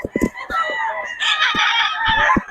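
Chickens from a Pangasinan breeder's flock cluck near the microphone, and a rooster lets out a clear, drawn-out crow in the middle.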